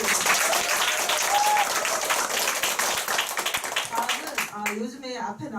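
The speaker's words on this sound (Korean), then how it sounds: "박수 한번 부탁드립니다" Audience applause at an award ceremony, a dense, sustained round of clapping from a crowd that gives way near the end to a speaking voice.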